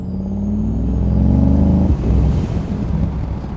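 A Mercedes-AMG Mythos PureSpeed V8 on a mountain road, a deep steady engine rumble from inside the car that swells slightly, then drops and shifts to a rougher, burbling tone midway.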